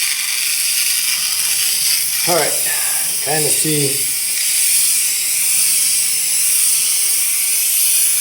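A Shark steamer shoots a loud, steady hiss of steam against an old vehicle wrap, running continuously throughout, while someone briefly speaks over it.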